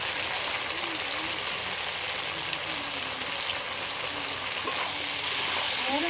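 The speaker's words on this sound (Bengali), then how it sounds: "সবগুলো তো একসাথে একটু হালকা করে নেড়ে নিয়েছি" Pumpkin and potato frying with ground cumin and coriander in a pan, a steady close hissing sizzle throughout, with a faint voice murmuring underneath and a light stirring knock near the end.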